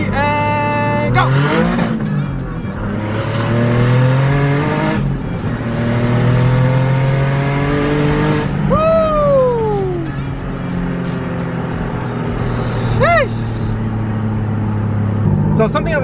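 A car accelerating hard from a rolling start in a second gear pull, with engine revs climbing loudly and close, dropping at each upshift, then a sharp rising whine near the end.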